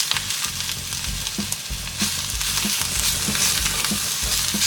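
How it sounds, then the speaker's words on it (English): Curry leaves and coriander sizzle and crackle in a hot pan, a steady close frying hiss with periodic scraping and stirring knocks from a spoon. "For half a minute, just roast the curry leaves too."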